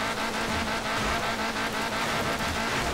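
Electric car from Forza Horizon 3, driving in a race through Australia, gives a steady, loud whirring drone with road and tire noise, continuous throughout with no talking.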